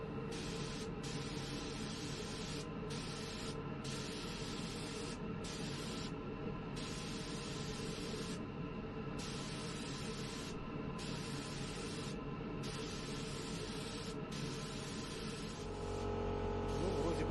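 An airbrush or spray gun lays down shading on a relic '59 Les Paul guitar copy in about nine separate hissing bursts over a low steady hum, and the hiss grows louder and more continuous at the end.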